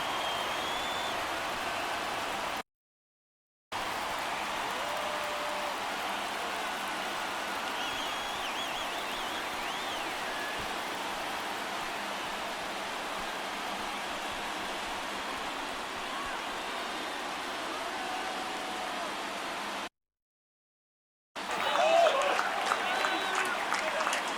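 Baseball stadium crowd at a Blue Jays versus Tampa game roaring after a home run, a sustained, wash-like wall of cheering and applause at moderate level, briefly cut out twice, swelling louder at the end.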